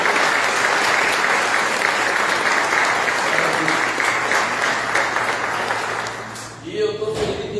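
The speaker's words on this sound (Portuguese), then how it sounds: "Você pode aplaudir Jesus?" Church congregation applauding, a loud, dense clapping that runs for about six seconds before it thins out, with a voice coming in near the end.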